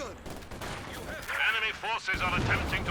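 Zis anti-tank gun firing during a Company of Heroes 2 match, a sharp shot among layered battlefield explosions and rumbling gunfire, with a commentator talking over the action.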